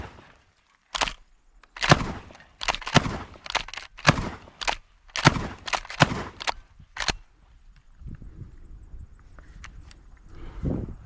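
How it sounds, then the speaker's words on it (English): A 1918 Winchester 1897 Trench Gun 12-gauge pump shotgun fires about a dozen sharp, loud blasts in quick irregular succession outdoors, with metallic racking between shots and quieter handling noise near the end. "Take a shot."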